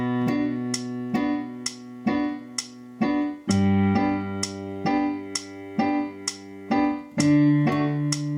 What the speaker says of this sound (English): You could simply hold down root notes in the left hand whilst you play those offbeat